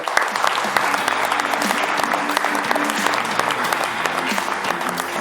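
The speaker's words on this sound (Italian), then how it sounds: "allora un applauso a Rupinaro Sport" Studio audience applause on a live local TV sports show, steady dense clapping filling the room from start to end with no talk over it.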